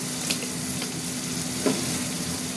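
Bengali masala paste fries in a pan for a shrimp and banana flower dish, giving a steady close sizzle with soft stirring scrapes and no voices.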